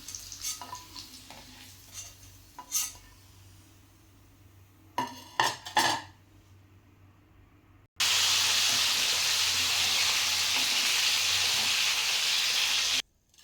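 Bitter gourd pieces frying in oil in a pan: a few light utensil scrapes and clinks come first, then a loud, steady sizzling hiss carries on alone for several seconds.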